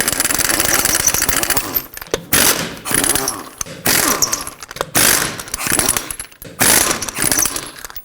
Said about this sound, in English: Now continue with your impact or tool of choice. 21mm socket, remove all the rest of your lug nuts.